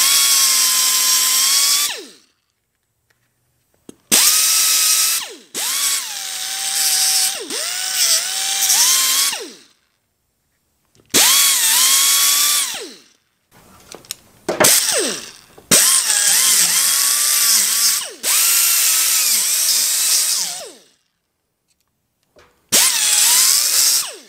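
Power grinder working on sheet metal in bursts of two to four seconds, a loud high whine that rises and falls in pitch under load, with short silent pauses between passes.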